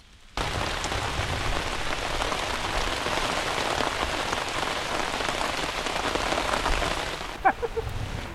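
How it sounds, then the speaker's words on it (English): Heavy rain pours steadily in a forest during a thunderstorm, a dense continuous hiss of drops with a few louder splashes near the end. "Heavy rain, thunder, lightning here in the forest."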